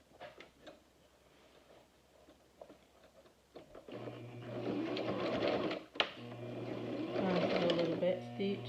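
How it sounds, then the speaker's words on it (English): A sewing machine starts up partway through, stitching a homemade face mask with a steady whirring hum after a few seconds of handling noise and a voice speaking. "I'll do a little back stitch."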